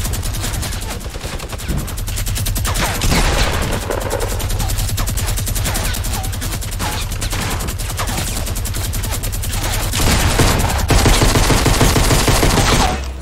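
Minigun spinning and firing in a shooter video game, a continuous rapid buzzing stream of shots held loud and close for over ten seconds with a steady low hum underneath.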